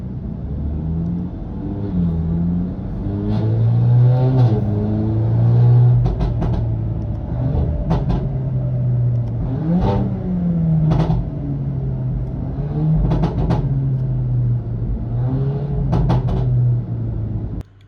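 A VW Golf 8R with a tuned 2.0 TSI EVO4 engine, downpipe and stage +1 chip tuning, running on a rolling-road dyno: a loud, sustained engine drone that rises and falls through several rev sweeps, with sharp clunks between pulls.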